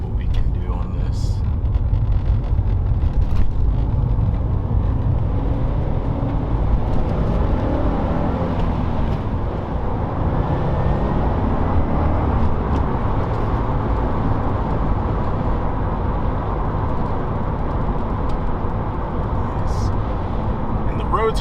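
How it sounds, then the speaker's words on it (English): Subaru WRX fitted with Faction Fab coilovers set to full soft, driving on a wet road: a steady low engine and road-noise drone with tyre hiss runs throughout, with a person talking over it. "I can kind of show you guys how the car handles, how it's driving"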